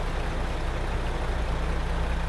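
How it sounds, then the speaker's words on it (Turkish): A MAN TGX E6 truck engine in Euro Truck Simulator 2, a steady, loud, low diesel drone that idles evenly with no break and no speech. "Hem motor sesimizi dinlerken bu şekilde de motor sesi var."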